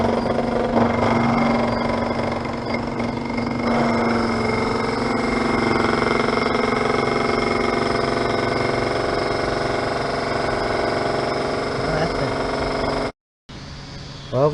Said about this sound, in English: Now I've got a 48 volt 1000 watt motor connected up.